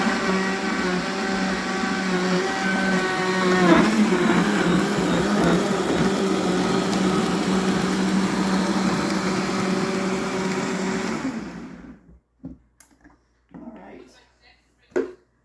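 A Vitamix blender whirs loudly and steadily as it purées fresh salsa ingredients with a little juice, its motor pitch dipping once as the load shifts, then it cuts off, leaving a few short clunks and knocks.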